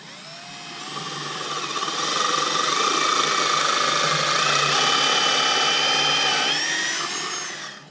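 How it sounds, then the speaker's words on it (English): A power drill runs steadily for several seconds through wood, a loud sustained whir that ramps up and then winds down near the end. "We've got to drill those out and put those in place."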